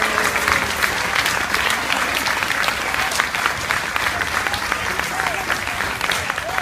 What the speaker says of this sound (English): Give our 4th graders one more big round of applause for their work tonight.